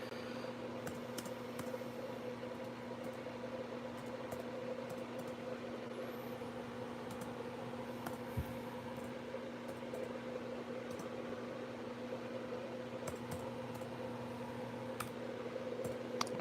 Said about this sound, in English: I'm typing this all with one hand